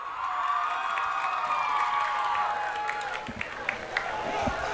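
Crowd noise from the stands at a high school football game, a sustained roar and cheering with a few sharp thumps and shouts, heard at a distance behind the announcers' commentary.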